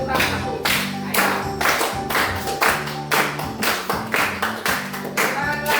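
A standing church congregation claps together in a steady, rhythmic beat, loud and sustained, with music-like tones and faint voices underneath.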